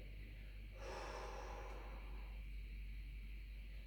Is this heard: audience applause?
no